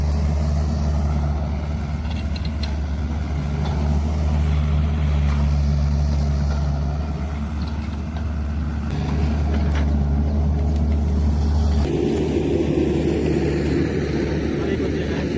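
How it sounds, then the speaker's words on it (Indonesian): A steady excavator engine drones loudly and continuously at a horse-riding site in Payakumbuh, its low rumble holding throughout with a slight shift in tone near the end. "Dia agak sensitif dengan bunyi mesin ekskavator ya guys ya."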